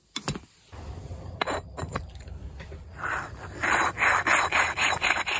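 A hand-powered bow drill works a hole into a gemstone without electricity, giving a steady back-and-forth rasping, rubbing grind that grows louder and more rhythmic toward the end, with a few sharp knocks near the start.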